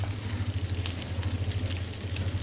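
Onions added to the middle of a pan of frying raw prawns with tamarind leaves, giving a soft, steady sizzle under a low hum, with no talking.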